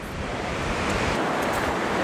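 Surf washes in a steady rushing roar on a misty beach, close and loud with wind buffeting the microphone, a constant wash of noise with no voices.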